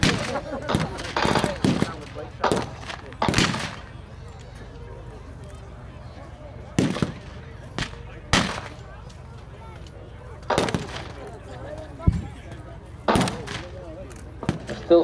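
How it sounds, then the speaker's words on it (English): Sporadic mortar and artillery fire thuds and cracks in scattered bursts, some sharp and close, others duller, separated by quieter stretches, with a voice speaking in between. "Still sporadic mortar fire coming in. Artillery fire."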